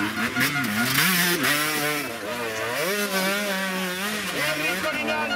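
An enduro motorcycle engine revs hard during an Enduro GP race, loud and close, its pitch rising and falling repeatedly as the rider works the throttle, with a commentator talking over it.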